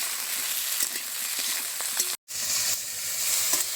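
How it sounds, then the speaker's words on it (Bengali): Chunky-cut tomatoes fry lightly with garlic in a pan, giving a steady close sizzle with faint stirring ticks and a brief dropout midway. "টমেটোগুলো দিয়ে হালকা একটু ভেজে নিচ্ছি।"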